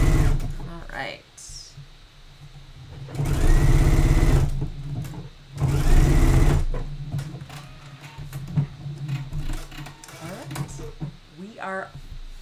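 A sewing machine stitches a swimsuit in two loud, close bursts of rapid needle clatter, each a couple of seconds long, with quieter handling and a person talking in between.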